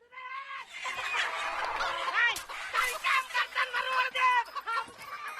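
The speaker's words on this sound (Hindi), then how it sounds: "लो भाई, मुर्गी महाभारत फिर शुरू।" Chickens squabble in a noisy flurry of squawks, clucks and rising cackles in a rural village yard, loud and close, with agitated calls overlapping and then breaking into choppier bursts.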